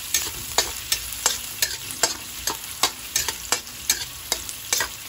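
Garlic frying in a pan for ginisang miso, a steady close sizzle cut by regular, evenly spaced spatula scrapes, about two per second, with no voices.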